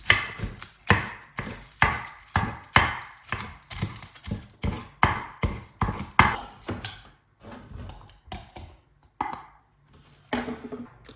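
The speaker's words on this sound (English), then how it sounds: "So for these guys, I'm just going to do a little bit of a rough chop." A knife rough-chops green onion tails on a cutting board in a steady run of quick, close, loud thuds that slow and turn sparse toward the end.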